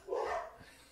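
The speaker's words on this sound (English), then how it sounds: "listen to those dogs bark" A few dogs bark in a short burst, a single loud yap up front followed by a quieter tail of barking, fairly close, with no talk over it.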